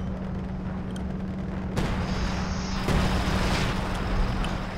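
Gunfire and artillery from the video game Company of Heroes 2 rumble continuously, with a couple of sharper shots cutting through a dense battle din.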